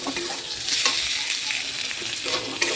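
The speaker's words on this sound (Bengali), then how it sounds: "টমেটোটা দিয়ে হালকা নাড়িয়ে সাড়িয়ে একটু ভেজে নেব।" Chicken and tomato fry in oil in a pan while being stirred, making a close, continuous sizzle with occasional scraping stir strokes and no talking.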